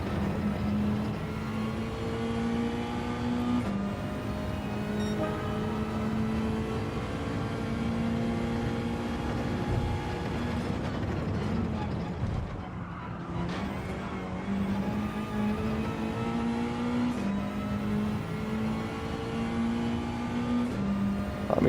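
A race car engine in Gran Turismo 7 drones steadily at high revs for a long stretch, its pitch rising through gears with brief dips where it shifts or lifts, loud and continuous with no talk.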